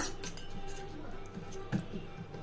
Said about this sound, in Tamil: இப்போ இது எல்லாத்தையும் நல்லா மிக்ஸ் பண்ணிக்கோங்க.